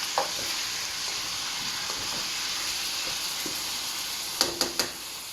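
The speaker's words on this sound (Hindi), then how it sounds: "इसको डाल के छोड़ दें टमाटर, तकरीबन ये 10 मिनट तक टमाटर को ऐसे पकने दें।" Tomatoes and mutton sizzle gently in a karahi, a soft continuous frying hiss with faint stirring scrapes, ending with three sharp clinks of a utensil against the pan near the end.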